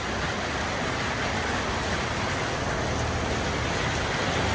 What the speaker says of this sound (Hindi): बारिश बहुत ज़्यादा तेज़ हो गई है।